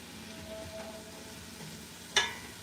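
Food sears in a pan while harira cooks over heat that had dropped low, giving a faint, steady sizzle with one sharp click partway through and no voices.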